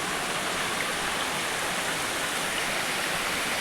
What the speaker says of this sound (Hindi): अभी हम झरने के नीचे खड़े हुए हैं और आप देख सकते हैं कितना खूबसूरत दृश्य।